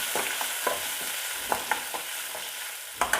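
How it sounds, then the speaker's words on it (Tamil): Onions sautéing in an open pan for rava kichadi, a steady high sizzle with a spoon scraping and stirring in short, irregular strokes close up, no voices. "வெங்காயத்தை சேர்த்து நல்லா வதக்கி விட்டுக்கிடுவோம்"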